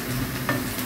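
Onions for mujaddara frying in a pan as they are stirred, a steady close sizzle with a soft scrape of the stirring, brief and continuous.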